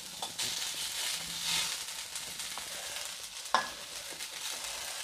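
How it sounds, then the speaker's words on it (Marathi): Boiled potatoes mashed by hand into a thecha mixture frying in oil for Maharashtrian vada pav filling: soft sizzling and crackle with stirring and squishing sounds, plus a sharper knock of utensil against pan. "इथे मी बटाटे जे उकडून घेतले होते ते मी हाताने असे कुस्करून या मिश्रणामध्ये टाकून घेते"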